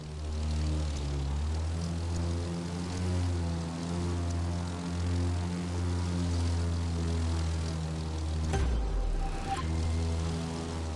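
Propeller airplane engine from a flight video game during knife-edge flight, a loud steady droning hum with strong low harmonics that dips briefly near the end before resuming.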